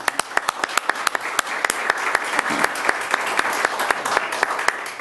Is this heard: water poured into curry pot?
no